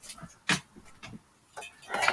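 A dog pants close by in short, irregular breathy bursts with brief pauses between them, and no one is talking.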